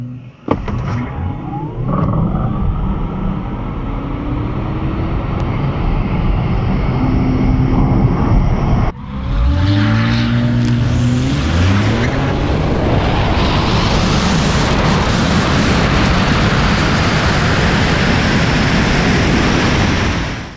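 A Tesla Model S Raven drag races a Kia Stinger GT. Loud wind and road roar builds steadily, then an engine note rises through sweeping gear changes after a sharp break midway, with a continuous noisy rush to the end.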